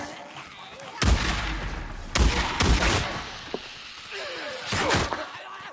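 Gunfire in the zombie video game Days Gone: several heavy, booming shots spaced irregularly over a rumbling game soundscape.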